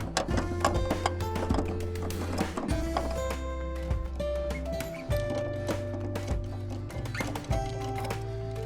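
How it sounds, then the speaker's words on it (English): Metallic clanks and ratcheting taps from a wrench loosening the lug nuts on a World War II jeep wheel, heard close up in quick irregular bursts over a steady low engine-like hum. "To loosen the lug nuts, we're going to utilize this tool here."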